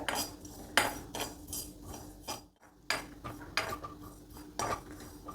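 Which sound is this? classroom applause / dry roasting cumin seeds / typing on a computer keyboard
dry roasting cumin seeds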